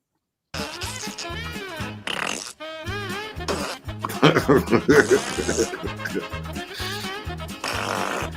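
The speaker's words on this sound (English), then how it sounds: "A lot of farting." Repeated cartoonish fart sound effects blare loudly in quick succession over a rhythmic thumping music bed, the squelchy blasts varying in pitch and length throughout.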